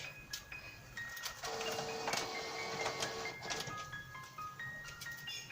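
An inkjet printer powers on after its button is pressed, giving close-up whirring motor runs, mechanical clicks and a few short electronic chirps and tones, with no talking.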